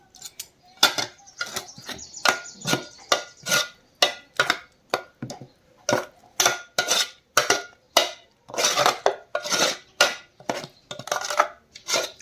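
Spoon working through vegetable curry in a metal pot, a rapid series of close clinks and scrapes in uneven bursts with brief pauses, no voices.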